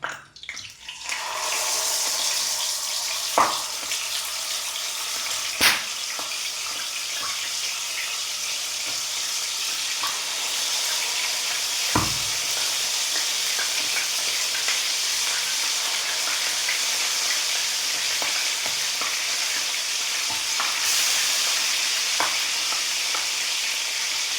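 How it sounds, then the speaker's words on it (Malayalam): Steady, loud sizzling of mackerel frying in hot oil, a constant crackling hiss with a few sharper pops and clicks, no voices. "ചൂടായ ഓയിലിലേക്ക് അയില ഇട്ട് കൊടുക്കണം"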